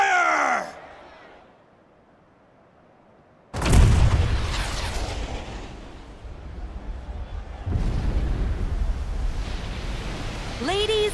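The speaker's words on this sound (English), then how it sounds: "with a single blast of Junon's famous cannon, Rufus Shinra has announced his arrival." Cannon blast from Junon's famous cannon in the video game Final Fantasy VII Rebirth, a sudden loud boom with a long rumbling roar that fades, followed by another swell of noise, with speech heard at the start and end.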